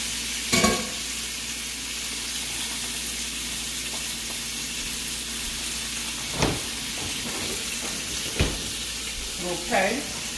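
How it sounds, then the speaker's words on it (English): Half a packet of bacon fries in a pan with a continuous close sizzle, broken by a few sharp knocks and clatters of a utensil against the pan. "we're gonna let this pan fry a little bit"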